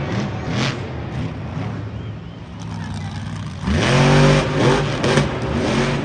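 A monster truck engine growls through a freestyle run at an East Rutherford show, rumbling at first, then surging into loud, rising revs near the end, with a commentator's voice faintly underneath.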